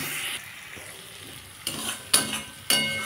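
Boiled potato masala with tomato sauce is stir-fried in a pan, with a steady low sizzle broken by several sharp scrapes and clatters of a spatula, close and fairly quiet.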